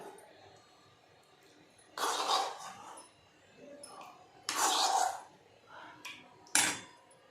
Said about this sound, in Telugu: మనం ఫ్రై చేసిన పన్నీర్ మొత్తాన్ని కూడా ఇప్పుడైతే నేను వేడి నీళ్ళలోకి వేసేసుకుంటున్నాను